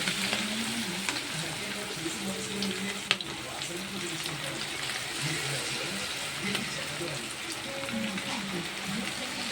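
Mint chicken kebabs fry in oil in a pan, giving a constant, close crackling sizzle for the whole stretch, with a sharp click partway through.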